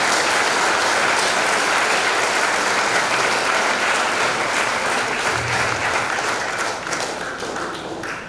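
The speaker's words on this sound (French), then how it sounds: "On applaudit les pères." A church congregation at a Saint Michael the Archangel feast-day Mass applauds the priests: dense, sustained clapping fills the whole stretch loudly, with a brief low thump midway, gradually tapering near the end.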